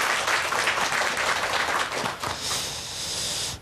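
A lecture hall audience gives sustained applause to welcome a lecturer on a televised talk, many hands clapping densely and steadily, tapering slightly near the end.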